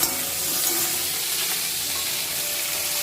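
Fried peanuts stirred in hot oil in a pan, giving a continuous dense sizzle with light scraping, close and steady for a few seconds, no voices.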